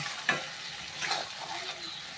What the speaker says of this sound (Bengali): আমি কিছুক্ষণ এটাকে মশলাটাকে ভালো করে কষিয়ে নেব